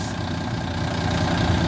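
A Volvo B12M coach engine idles steadily once warmed up, a short burst of continuous low mechanical rumble close by with no talk.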